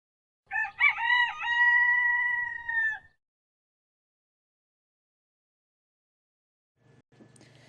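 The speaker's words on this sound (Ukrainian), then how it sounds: "А що промовляє півник?" A single rooster crows one long cock-a-doodle-doo, loud and close, then silence before a faint rustle near the end.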